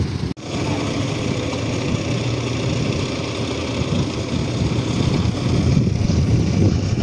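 A tractor engine runs steadily, a close, continuous rumbling drone, while a Veles Agro KPG 4.5 cultivator is lifted and set going. The drone builds slightly toward the end with no speech over it.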